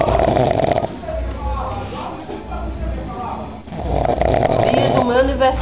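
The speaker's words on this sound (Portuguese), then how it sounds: "o presente que eu recebo é esse, o ronco da minha irmã" A woman snoring loudly indoors at home, long heavy rumbling breaths with raspy throaty texture, one drawn-out snore fading then another starting, close and dominant, filling the room.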